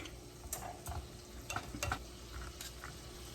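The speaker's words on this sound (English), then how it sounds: "onions cook in the steak grease" Onions cooking in leftover steak grease in a pan, a close, continuous crackling sizzle with scattered light scrapes and taps of stirring, no talking.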